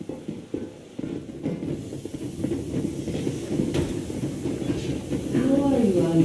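Steam train from Yermak, a video game, moving at full steam: a steady, continuous low rumble and hiss runs throughout, growing slightly louder near the end with a rising whistle-like tone, while someone talks over it.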